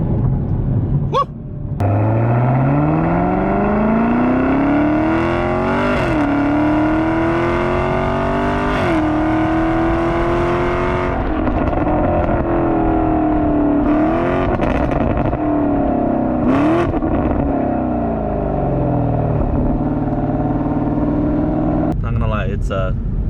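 A Chevrolet Camaro ZL1 engine revs and climbs through gears in a long, loud, sustained drone, with brief shifts and dips, under occasional talk.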